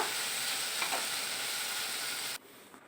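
Tomatoes cooking in a pan for shahi paneer, a steady close sizzle with soft stirring scrapes, the sizzle dropping away abruptly near the end, no voices.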